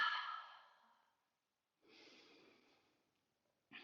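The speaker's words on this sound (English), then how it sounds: "Inhale, exhale out of the mouth." Slow, breathy exhales out of the mouth during a yoga session for healing with twists: a long audible sigh, a pause, then a softer second breath, close and quiet.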